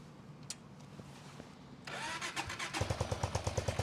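A motorcycle engine that had been failing to start cranks briefly, then catches and settles into a steady, pulsing idle, close by and fairly loud.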